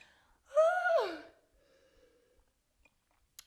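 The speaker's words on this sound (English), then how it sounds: "Yo, I'm so out of breath." A single sharp gasping breath is drawn in during a strenuous yoga flow, a short breathy burst followed by a faint sigh of exhale, alone and close.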